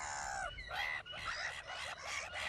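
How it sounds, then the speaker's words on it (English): Seagulls call repeatedly on a winter's day, loud overlapping cries and squawks in quick succession from several birds close by, with no talk. "Seagulls showing off their flying skills on a winter's day."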